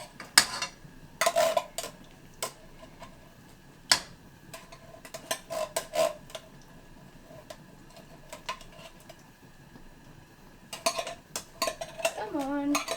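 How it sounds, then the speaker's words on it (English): A metal spoon scrapes and clinks against a container while scooping out pumpkin filling, irregular bursts of scraping and taps close up, with quieter gaps between strokes. "I'm just gonna get a spoon, scrape the rest of the pumpkin filling out"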